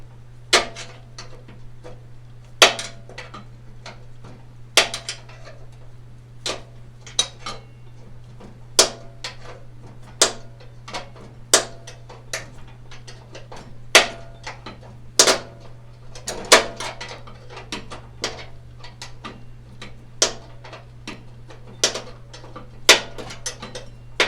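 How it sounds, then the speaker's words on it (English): Metal wrench work on bolts of a 42 inch mower deck, heard as a series of sharp clicks and clanks at irregular intervals over a steady low hum, close and fairly loud. "I think we're going to have to wrench that bugger out of there."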